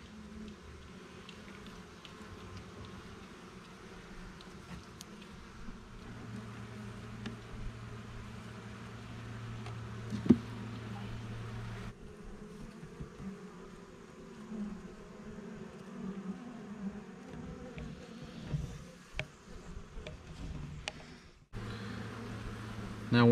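A low, steady buzzing of many honeybees around a hive drones on throughout, with occasional handling noises and faint background hum.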